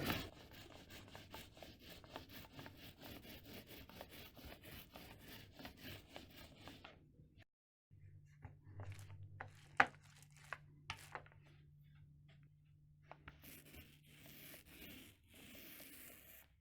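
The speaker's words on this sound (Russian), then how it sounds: "Наношу ровным тонким слоем на небольшой участок стены." Decorative putty plaster is spread thinly across a small patch of wall, producing close rasping scrapes in steady strokes, then a brief pause and scattered scrapes and taps, quiet with no talking.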